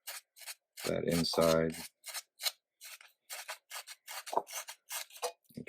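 Light rubbing of a nail filing block on the inside of a silver dollar coin ring, heard as short scratchy strokes in an irregular rhythm, close up, with a brief spoken voice near the start.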